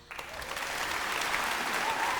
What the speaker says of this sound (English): The applause faded away into the sound of champagne bottles opening at the party